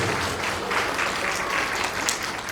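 Wedding guests applaud together in a steady, dense burst of clapping that stays even throughout, with no talking over it.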